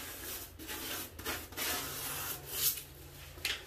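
Small brush scrubbing a shower with citric acid, a steady rapid scratchy rubbing close by, with brief pauses and bursts over about four seconds and no talking.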